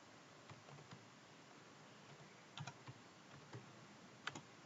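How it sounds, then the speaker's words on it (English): Quiet typing on a computer keyboard, scattered soft key clicks with small clusters of quick taps over low background hiss. "Now I am typing the type of items."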